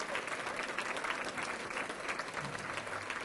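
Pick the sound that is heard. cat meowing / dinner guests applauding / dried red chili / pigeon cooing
dinner guests applauding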